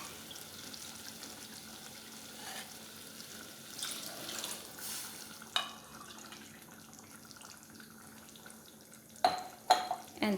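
Water is poured into a pot of soaked rice for chana pulao, a soft, faint trickle with a few sharper clinks and knocks of utensils in a quiet kitchen.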